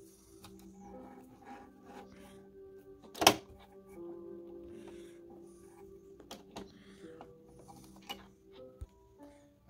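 A Babylock Espree EM1 embroidery machine stitching on fabric, a quiet steady mechanical whirr with rapid ticking and repeated small clicks, one louder sharp knock early on, heard close with no talk.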